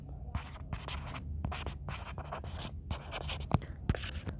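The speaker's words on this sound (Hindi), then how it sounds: "लिख दो, चलो लिख ही देता हूँ।" Handwriting in class notes during a science lesson, with steady scratching strokes in bursts and brief pauses, close and fairly clear, with a voice speaking faintly now and then.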